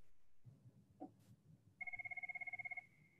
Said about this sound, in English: because when your phone rings.